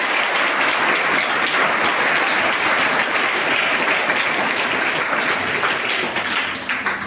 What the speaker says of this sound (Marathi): त्यांच्यासाठी एकदा जोरदार टाळ्या होत्या.